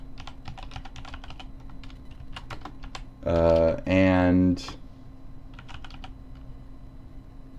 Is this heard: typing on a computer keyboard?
yes